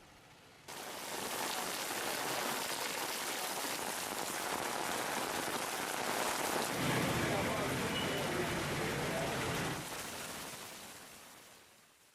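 Steady heavy rain hisses continuously, a dense wash of drops that swells slightly midway and fades near the end, with no voices.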